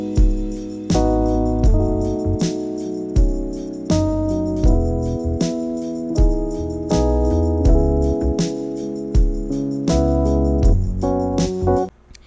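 A relaxed groove of mellow electric piano chords, walking upright bass and a light steady drum beat plays together for several bars.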